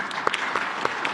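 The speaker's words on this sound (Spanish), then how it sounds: "Un aplauso." Brief applause at a presidential press conference in Mexico, a short burst of scattered clapping from the room with a few distinct sharp claps standing out.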